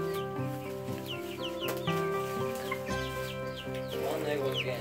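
Chickens clucking close by during a first meeting between flocks, with a string of short, tonal clucks and calls overlapping one another against a low steady background hum.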